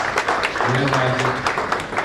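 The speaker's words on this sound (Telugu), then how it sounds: "అందరూ ఒకసారి చప్పట్లతో స్వాగతం పలకాలి" An audience at a lawyers' meeting in Rangareddy district claps to welcome a guest, producing a dense, steady patter of applause over the whole span, mixed with voices talking.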